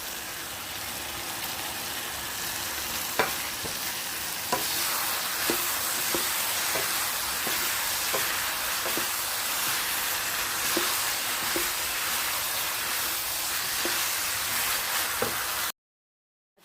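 Eggplant and pork stir-fry with red and green chili peppers and sliced green onion sizzles steadily in a hot pan, with occasional clicks of a utensil stirring, close and continuous with no talk.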